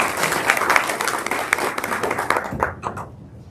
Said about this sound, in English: both these candidates a round of applause as they are dismissed